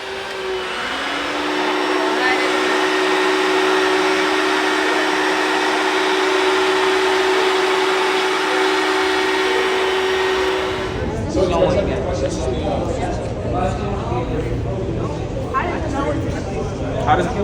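A vacuum cleaner drones loudly and steadily with a sustained whine for about ten seconds, then cuts off and gives way to room chatter and voices.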